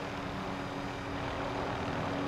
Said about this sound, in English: Wait, I want the second chopper.